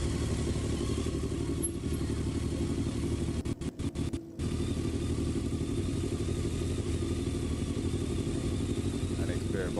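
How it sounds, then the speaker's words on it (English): Drag racing motorcycles sit staged at the start line at Sydney Dragway, engines rumbling steadily and loud throughout, with a brief dip in the noise midway and a faint announcer's voice under the engines. "Our next pair of bikes going into full stage"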